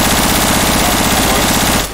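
Rapid burst gunfire from a Left 4 Dead 2 gun rattles out loud and close in a continuous stuttering stream, then stops abruptly at the end.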